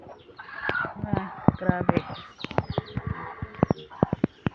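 Farm ducks on a sunny Philippine farm quack and chatter in a lively, overlapping cluster close by, with a brief spoken word from a person among the calls.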